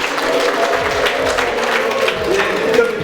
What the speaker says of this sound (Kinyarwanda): amashyi n'impundu cyane.